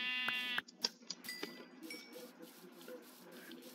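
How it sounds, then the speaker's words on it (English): A sheep in a survival game gives a few short bleats, faint and close, alongside small clinking sounds over a quiet background. "we got this other sheep over here"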